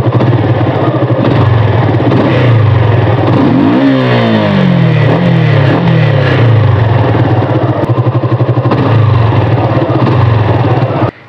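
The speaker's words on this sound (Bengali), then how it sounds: "অনেক ফাস্ট ওঠে এদের আরপিএম।" Suzuki Monoton motorcycle engine revving quickly and loudly at close range, sweeping up and down in pitch over a steady pulsing drone that runs continuously until cutting off at the end.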